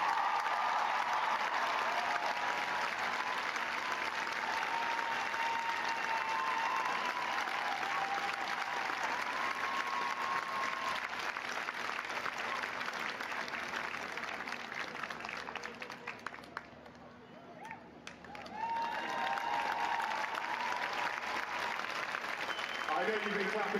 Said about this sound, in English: I know you've been clapping a lot, ladies and gentlemen